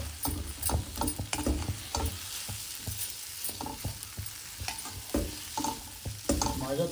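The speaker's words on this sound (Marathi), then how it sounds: "आणि आता ते सगळं पुन्हा आपण मिसळून घेणार आहोत." Spoon stirring wheat-flour sheera with cardamom powder in a pan, repeated scraping strokes with a soft sizzle underneath, close and steady.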